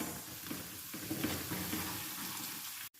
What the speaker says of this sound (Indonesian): Kita taruh merica bubuk. Kita tumis dia sampai harum ya guys.